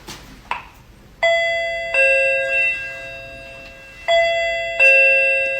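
An electronic doorbell sounds two ding-dong chimes in a row, pauses, then repeats the pair, each bright tone ringing out and decaying cleanly over a quiet room.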